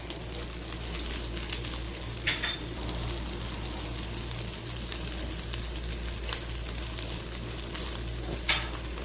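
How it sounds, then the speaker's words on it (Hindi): Semolina halwa made with milk fries steadily in a pan as dry nuts are added and stirred in. A constant close sizzle runs throughout with a few soft scraping stirs and no talk. "इसमें अब इस टाइम हम ये ड्राई नट्स जो है ना वो हम डालेंगे"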